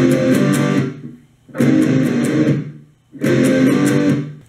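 An electric guitar plays the first half of a riff, three loud strummed phrases, each about a second and a half long, separated by short pauses, with no talking.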